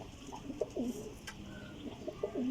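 Champion pigeons, old desi birds, coo softly in a few low, rolling bouts at close range, with no talk.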